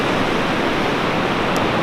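Waves break and wash steadily into a small protected cove on the North Oregon coast at receding tide, a dense, continuous roar of surf with no talk.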